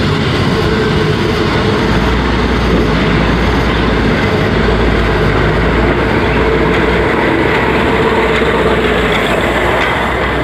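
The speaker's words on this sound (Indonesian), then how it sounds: "Saya berada di kereta api yang berdampingan dengan Rawa. Kereta api ini melintas" Passenger train rolling beside Rawa Pening lake, a loud continuous rumble of wheels and carriage with steady low drone and faint rail rattle throughout, no talking.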